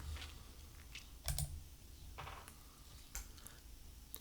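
Keys tapped on a computer keyboard while entering an IP address in PC software, a sparse run of light clicks with a few heavier presses, close and quiet against a faint room hum.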